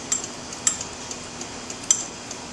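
A spoon stirs oil into mayonnaise in a bowl, giving a few faint, sparse clinks and taps against the bowl over a quiet background.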